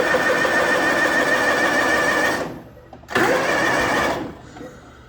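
A John Deere 345 lawn tractor engine cranks in two long steady whirring bursts separated by a short pause, loud and close, with no talking.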